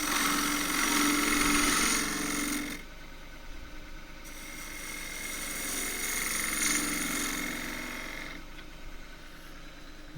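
A wood lathe spins while a half-inch spindle gouge cuts a pear wood dish, giving a steady broadband hiss and hum that drops in level partway through as the cut lightens, then rises briefly again.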